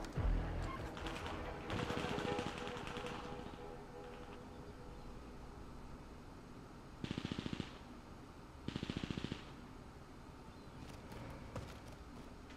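Gunfire in Call of Duty Warzone: bursts of automatic fire opening the clip and two short, sharp volleys near the middle, with quieter scattered shots between them.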